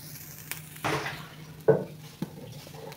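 Dried fish frying in a pan with soft sizzling, broken by several sharp clinks and scrapes of utensils against the pan as it is stirred; moderately close and faint overall, with no talking.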